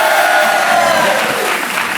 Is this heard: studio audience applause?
yes